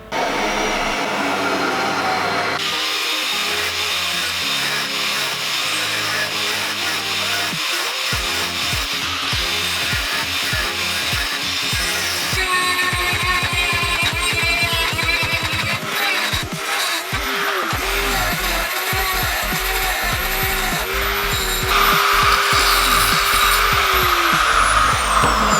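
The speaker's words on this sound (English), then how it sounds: "drill 2 holes, cut out the bit between." Holes are drilled in a piece of steel angle and the section between is cut out with power tools, a loud close whine that starts, stops and changes pitch in bursts, with grinding, cutting passages throughout.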